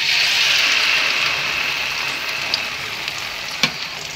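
Ground spices and bay leaves sizzling in hot oil while cooking mutton kofta curry, a continuous bright frying hiss that slowly eases, with a couple of sharp clinks of a utensil near the end and no talking.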